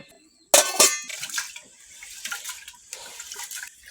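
Rice being rinsed in water in a home kitchen: a sudden splash and sloshing, then softer intermittent swishing and trickling close by.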